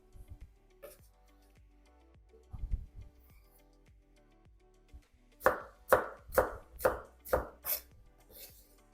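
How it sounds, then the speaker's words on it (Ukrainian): A knife chops potato, cucumber and chicken into medium cubes on a board with about seven sharp, evenly spaced strikes, close and fairly loud, after a stretch of quieter kitchen handling sounds. "Картоплю, огірок і курку я нарізаю середнім кубиком."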